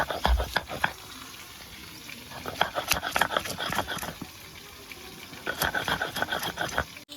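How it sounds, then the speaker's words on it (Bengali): Green chillies being ground by hand on a grinding stone, heard as rhythmic scraping strokes that come in bursts, pause briefly midway, then resume close by with no talking. "কাঁচা লঙ্কাটা আমি বেটে নিচ্ছি"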